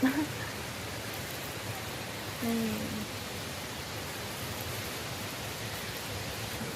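Steady broadband rush of a waterfall, continuous and even throughout, with a brief faint tonal blip partway through.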